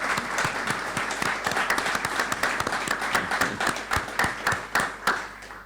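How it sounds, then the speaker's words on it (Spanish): An audience applauds warmly at a book presentation about the Malvinas war, with dense, close clapping that holds steady for several seconds before thinning toward the end. "quiero pedir un gran aplauso para Leo."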